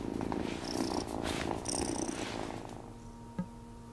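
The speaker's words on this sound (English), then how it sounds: "Oh, what a good purr." A video game cat purring close up in Wylde Flowers, a soft continuous rumble with a brief click near the end.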